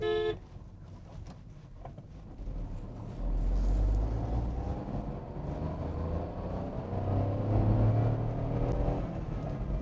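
A Tata Altroz i-Turbo hatchback in sports mode accelerates from inside the cabin, its engine drone swelling in two rising surges over road rumble, steady and moderately loud with no talking.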